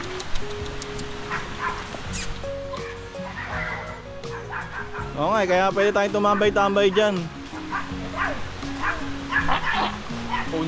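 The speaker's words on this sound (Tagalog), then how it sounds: "May kasama pa kaming tuta oh, ayun oh." A puppy yips and barks in several quick high calls during a motorbike trip to a waterfall in Infanta, Quezon, loud and close, while people chat nearby.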